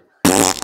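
A single short fart, loud and close, a brief buzzing burst after a moment of silence.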